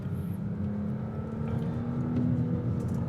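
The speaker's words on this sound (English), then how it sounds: "that's not a bad little V6 rumble. Right now, it sounds a little bit distant." A 2025 Audi S5 V6 accelerating in first gear, heard from inside the cabin as a steady, low, somewhat distant engine rumble and whir, gently rising in level toward the end, with no talking.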